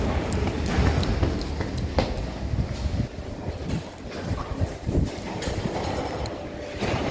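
Paris metro train rumbling along, a steady close mechanical roar with rattles and clicks of the carriages running throughout.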